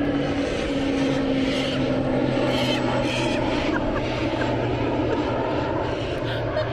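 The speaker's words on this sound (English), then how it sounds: "Oh my goodness, an airplane!" A fixed-wing airplane passes overhead above a river in open country, its engine a steady, moderately distant drone that holds through the whole stretch against a broad background hiss.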